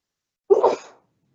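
A single short, close sneeze from one person bursts out and fades within about half a second in an otherwise quiet room.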